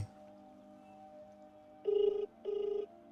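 A telephone call rings unanswered with two short, trilling ring bursts close together after a quiet stretch of low hum, and no one picks up.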